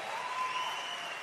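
Church congregation applauding a band during a worship service, a steady continuous wash of clapping held at an even level for the whole short stretch, with no talk over it.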